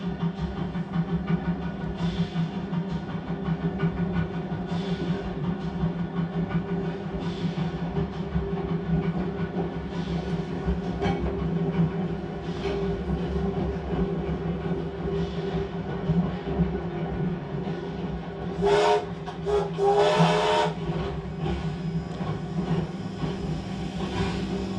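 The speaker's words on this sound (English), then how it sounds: "The actual floor is rumbling as though it feels like you're in the train." A train rumbles along the rails in the Southern Flinders Ranges near Peterborough, heard from inside as a continuous low, droning clatter, with a couple of short, sharp hissing bursts near the end and no talk.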